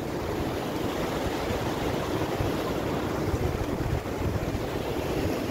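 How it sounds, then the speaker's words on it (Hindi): Rough sea waves wash onto a beach as a steady, dense roar of surf, close and constant, mixed with wind buffeting the microphone. "माशाल्लाह इतना पानी जोर में है, मैं आपको दिखाती हूँ।"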